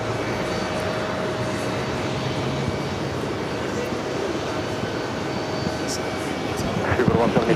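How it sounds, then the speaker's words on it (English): An Etihad jet airliner starts its takeoff roll at JFK, a steady broadband engine roar heard from a distance that swells slightly toward the end. "Etihad should be rolling."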